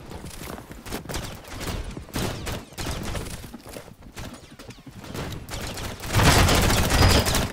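Rapid bursts of gunfire crackle in a medieval combat video game, dense overlapping shots with a heavier explosive blast near the end.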